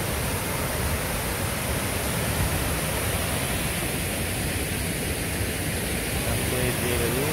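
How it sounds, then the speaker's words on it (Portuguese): A waterfall at Pedra Redonda ranch in Paranapanema, Nantes, São Paulo, Brazil roars in a steady, dense broadband rush that stays loud and unchanging throughout. "Tá na cachoeira aqui, ó, que beleza."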